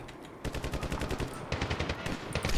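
Rapid bursts of video game gunfire in Medal of Honor (2010), loud and close, with a short pause before repeated volleys of fast shots that keep going to the end.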